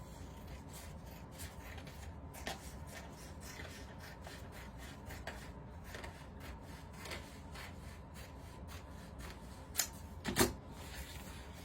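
A piece of clearance wooden wall decor being cut down by hand for a table riser, with faint, irregular scraping saw strokes repeating close by, plus a couple of sharper knocks near the end.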